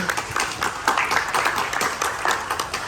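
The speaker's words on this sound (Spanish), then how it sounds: "primero un aplauso" A conference audience at an urban mobility panel breaks into applause, a moderately loud patter of many hands clapping in a brisk, uneven rhythm that continues through the short stretch.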